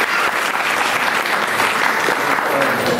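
Applause from an audience at a women's Haldi-Kunku and tilgul community event of the Shri Sant Namdev Shimpi Samaj, greeting Dr. Gauri Bachal; dense, steady clapping fills the whole stretch at close range without any talk over it.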